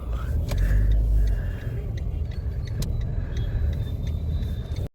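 Inside a car heading over Karikode bridge, a low steady road and engine rumble fills the cabin, with faint ticks and rattles over the drone until it cuts off abruptly.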